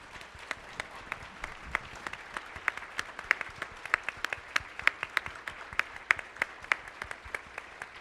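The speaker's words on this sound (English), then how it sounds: "you deserve a round of applause" An audience applauds veterans at a Parkinson's caregiver event, with steady clapping that carries on for several seconds at a moderate distance with no talking over it.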